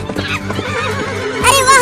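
A cartoon horse whinnies loudly and close, a short harmonic neigh that rises into a bright high-pitched squeal near the end, with faint hoof knocks early on and no talk over it.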